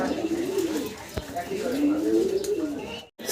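A male Lahori pigeon with silver plumage coos up close in a series of low, throaty, rolling calls, with a short pause near the end and some faint background voice.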